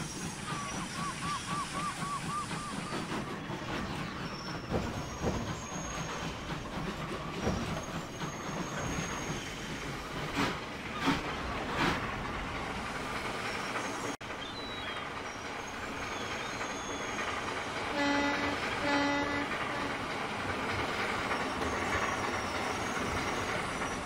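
A steam train hauling old Victorian-era coaches rumbles steadily past at close range, wheels clattering and squealing over the rails, with a continuous heavy mechanical roar throughout.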